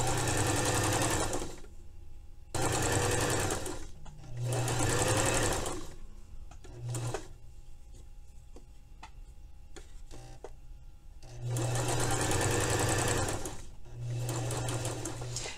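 Sewing machine stitching lace onto the edge of fabric in three loud, steady runs of rapid stitching separated by quiet pauses with faint ticking handling sounds.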